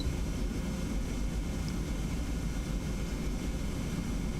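An airplane in the Condor flight simulator game drones steadily, a constant, even engine and airflow roar heard alone throughout.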